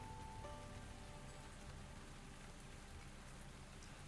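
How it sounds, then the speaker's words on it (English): Steady rain pattering in the cozy video game Tavern Talk, a soft, continuous hiss of drops with a faint tone early on, low and unbroken without any voices. "Rainy day."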